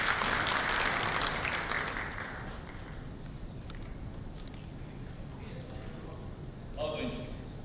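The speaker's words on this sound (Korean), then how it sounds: "큰 박수 부탁드리겠습니다" An indoor audience at a bank's economic outlook presentation claps, loud and dense at first, then thinning and fading over several seconds to scattered claps and murmurs.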